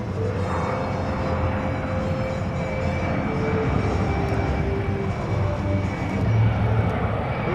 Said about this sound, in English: the slow flyby races of the C-17